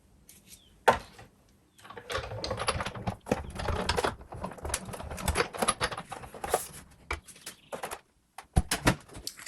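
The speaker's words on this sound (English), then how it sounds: "So I bring in my die cutting machine, and we can die cut that." A die cutting machine cuts cherry blossom dies. Close, crisp clicking and rattling bursts run in a steady series, broken by a few short pauses.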